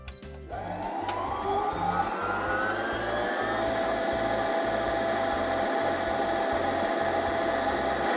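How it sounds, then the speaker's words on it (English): A Baby Lock Katherine sewing machine starts up and winds a bobbin, a steady close motor whir with a fast rhythmic mechanical ticking that holds constant after a brief start. "Now you can move the bobbin winding pin into winding position and you're ready to wind the bobbin."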